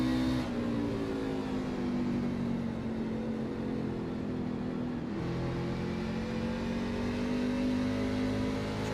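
Racing truck engine droning on track in a racing video game, a steady in-car whine whose pitch sags, then drops sharply mid-way as the driver lifts and climbs again, loud and continuous without talk.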